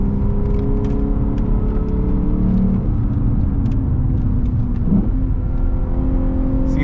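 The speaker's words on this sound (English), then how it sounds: "So you can see it kick that downshift automatically." A Lexus GS F accelerating hard, its engine drone rising steadily and then dropping in pitch as the automatic transmission kicks down a gear, loud and close from inside the car, with no voices.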